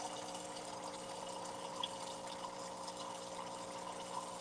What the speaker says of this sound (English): That's my water, so I'm making an Americano.